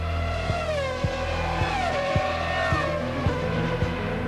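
A 2001 Formula 1 car's engine wails loudly and rises through gear changes as it heads down the pit lane at the A1-Ring in Austria, with a high, continuous tone broken by regular shift beats.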